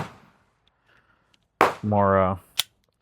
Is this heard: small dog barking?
no